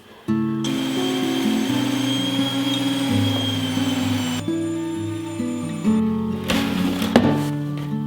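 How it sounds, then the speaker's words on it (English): An electric grain mill grinds wheat into flour with a loud, steady motorized drone that shifts pitch as the grain feeds through, with a few rattling knocks toward the end. "I'm starting off here by milling some wheat"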